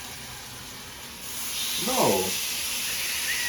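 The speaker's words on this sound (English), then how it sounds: "you just brown them until they get nice and pretty and brown. Alright, you hear that sizzle?" Meat browning in a hot pan for a Jamaican dish, a steady broadband sizzle and hiss that grows louder midway, with a person talking briefly over it.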